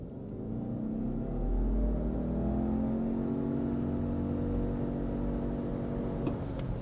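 A 2026 Subaru Outback turbo accelerating hard from a standstill to 60, its engine droning and rising steadily in pitch beneath a constant rumble, heard from inside the cabin.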